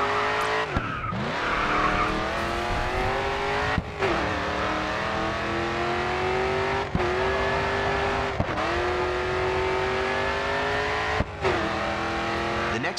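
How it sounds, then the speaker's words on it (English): A car drifts in the racing game GRID 2, its engine revving at a high pitch as the tires squeal through long slides, broken by short gear-shift dips and renewed acceleration, loud and unbroken with no voices. "Next corner, let's see a drift."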